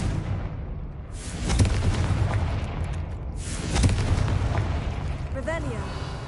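Explosions from the Confringo blasting spell in the Hogwarts Legacy video game, two heavy booming blasts a couple of seconds apart, each with a rumbling tail, with a player's voice shouting the spell.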